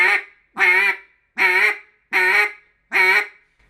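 Five sharp, evenly spaced quacks blown on a duck call, loud and close, each a short nasal burst with brief silence between.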